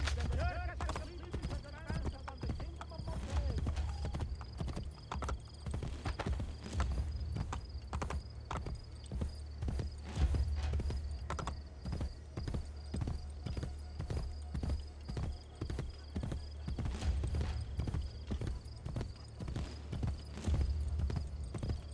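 Horse hooves galloping in the video game Assassin's Creed Brotherhood, a rapid, steady clip-clop rhythm of sharp thuds running throughout over game ambience, with a voice talking intermittently.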